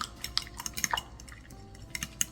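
Mild cheddar and mozzarella are mixed in a bowl. A utensil gives light, irregular clinks and scrapes at close range, with faint wet stirring between them and no voices.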